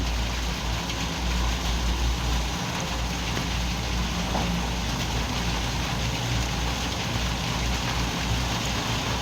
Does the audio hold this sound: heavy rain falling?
yes